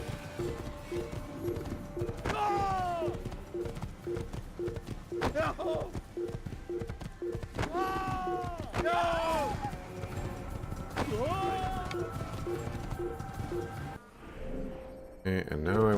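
Horse hooves clip-clop in a steady galloping rhythm in the video game Assassin's Creed, with a horse whinnying now and then, all over game music and ambient sound.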